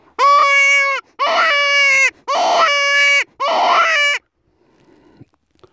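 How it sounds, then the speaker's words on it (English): Hand-blown predator call producing four loud, wailing screams, each about a second long with a falling pitch bend at the end, separated by short gaps, then quiet breathy handling noise. "It doesn't take a lot of air to make it scream like that."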